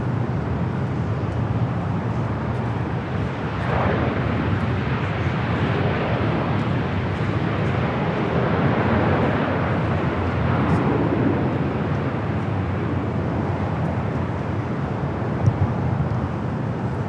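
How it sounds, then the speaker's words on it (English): An Allegiant Air A320 airliner arriving from Tulsa at Los Angeles International Airport roars as a steady, broad jet rumble heard from a distance, holding constant throughout with no talk over it. "Allegiant Air Flight 2386, coming up from Tulsa, Oklahoma. It's an A320 is our next arrival"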